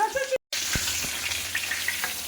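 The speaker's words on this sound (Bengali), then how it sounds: "মাছটা একটুখানি ভেজে রাখবো" Hilsa fish coated in turmeric and salt sizzles steadily in hot oil, a close, continuous crackling hiss broken once by a brief moment of silence.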